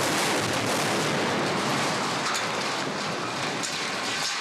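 A large staged explosion on a Transformers film set roars as a dense, continuous rumble and crackling debris rush, loud and sustained for several seconds with no voices.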